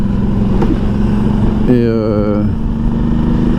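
Motorcycle ridden uphill on a mountain road to the Grand Ballon in Alsace, engine droning steadily throughout, with a brief rising rev or gear whine in the middle and a voice speaking over it.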